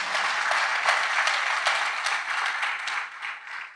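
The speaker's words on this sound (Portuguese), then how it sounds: "Dá um aplauso ao Senhor por isso" A church congregation applauding during a worship service, a steady, loud burst of many hands clapping together that carries on for a few seconds and then tapers off.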